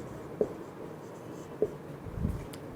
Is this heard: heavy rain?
no